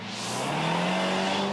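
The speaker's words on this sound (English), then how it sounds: "The most powerful C-Class coupe, the C300, comes with a 2-liter 4-cylinder engine that puts out up to 180 kilowatts." A Mercedes C300 C-Class coupe with a 2-liter four-cylinder engine revs hard, its strong engine note rising steadily and staying loud and close throughout, with no talking.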